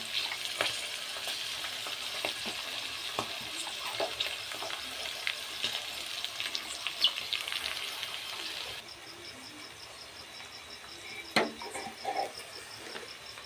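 Onions frying for a paneer dish, a close steady sizzle with stirring clinks that drops in level partway through, leaving quieter spatters and a pulsing insect-like chirp behind.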